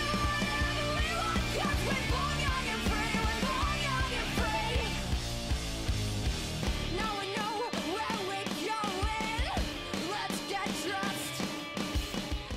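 A full rock band plays live, a dense wall of guitars, bass and drums with a steady driving beat. The music is loud and continuous throughout, with no talk over it.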